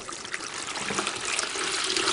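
Liquid pours steadily into a container during a primary maths measuring lesson, a continuous close trickling and splashing that holds at a fairly even level for a couple of seconds with no talk over it.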